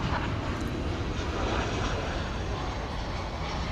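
A Boeing 737-800 airliner at DFW airport at night gives a continuous, loud broadband jet-engine roar with steady intensity throughout, close and unbroken.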